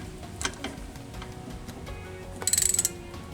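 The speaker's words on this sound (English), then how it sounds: "underneath, we're gonna be using a ratchet on that bolt right there" A hand ratchet turns a bolt underneath a vehicle: scattered mechanical clicks and knocks, then a quick burst of rapid ratcheting clicks near the end, close and fairly crisp.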